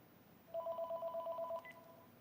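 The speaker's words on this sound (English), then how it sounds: "it's the Moon calling on the phone right now" A telephone rings once with a rapid electronic trill: a single burst of warbling pulses, moderately loud and clear, then stops. No one speaks.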